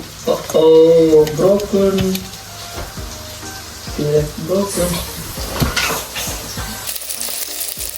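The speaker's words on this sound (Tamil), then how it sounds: "வெங்காயம் நல்லா வதங்கிட்டாரு" Onions sizzle in a pan under a person talking in Tamil, the frying hiss continuing in the background between phrases.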